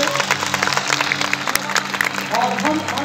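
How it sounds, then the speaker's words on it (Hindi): Audience applause at an inspirational education event held at Gyan Bhawan in Patna, a dense burst of clapping mixed with crowd noise and some voices underneath. "एक बार जोरदार तालियां होनी चाहिए"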